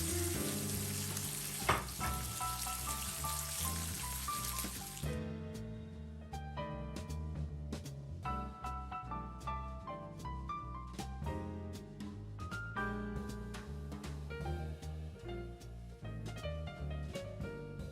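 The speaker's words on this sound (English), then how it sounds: "This cooks pretty quickly on a cast iron pan at high" Meat searing on a cast iron pan over high heat, giving a loud, continuous sizzle that runs steadily for the whole stretch with no talking.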